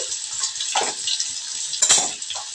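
Potato and ridge gourd fry in a pan with a steady, bright sizzle. Louder crackling spurts rise briefly near the middle and again toward the end.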